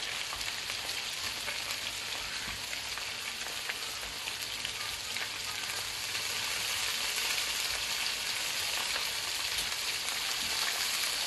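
Sweet and sour chicken sizzles in a pan: a steady, close, dense crackle of frying that holds at an even loudness throughout, with no one talking.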